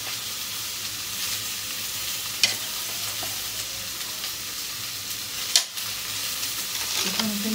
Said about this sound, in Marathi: मी गॅसवर न भाजता तर मी तेलातच भाजते